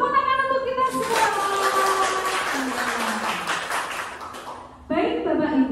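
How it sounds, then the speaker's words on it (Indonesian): An audience at a school teachers' training presentation claps together for several seconds, steady and fairly close. A speaker talks just before and right after the clapping. "Tepuk tangan untuk kita semua."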